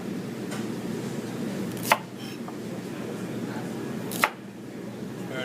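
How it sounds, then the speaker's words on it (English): A knife cutting carrot into batons on a board: two crisp, close chops spaced a couple of seconds apart over a soft kitchen background hum. "So we want to cut batons of carrot."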